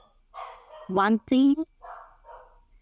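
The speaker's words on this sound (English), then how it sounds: "sorry, that's my dog." A dog gives two loud, close barks in quick succession while a person speaks softly before and after.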